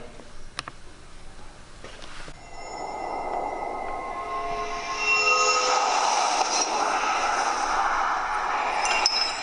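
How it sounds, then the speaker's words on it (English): A surround sound test played through computer speakers: a train passing, with rumbling wheels and rising metallic squeals that grow louder and fuller. "we're going to be playing a surround sound test only on my computer speakers"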